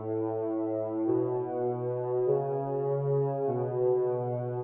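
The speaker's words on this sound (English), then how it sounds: "We're going to go with kind of like a synth pad sound for this next one." A warm synth pad sustaining low root notes, changing pitch in four smooth steps about a second apart, a continuous buzzy hum with no gaps, steady in level and heard alone.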